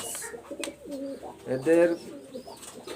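A pair of leg-tagged pigeons coos in soft, rolling bursts up close, the calls swelling loudest near the middle, while someone speaks briefly over them.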